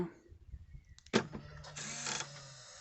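A sharp mechanical click sounds from an MG EHS as its charging cable lock releases, followed by a short whirring motor hum that fades out after a second or so.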